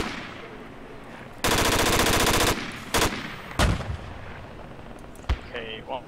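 Rapid burst of heavy APC cannon fire in the military game Project Reality, one loud sustained volley followed by a few separate sharp shots and booms, close and dominant over quiet background.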